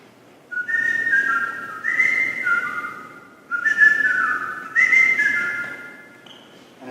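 A whistle, blown by a person doing a warm-up, gives two sets of long, wavering, sliding tones, each made of a few connected blasts with a pause between, loud and close with no talking.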